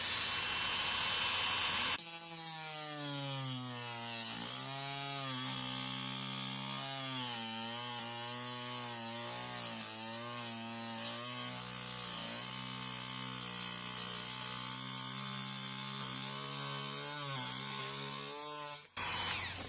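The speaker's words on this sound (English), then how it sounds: "I'm using just a regular circular cutting bit and a Dremel. I've got it on really low speed" A Dremel fitted with a circular cutting bit runs at low speed while slowly cutting into the edge of a plastic storage bin, giving a sustained whining buzz whose pitch wavers and dips as the blade bites.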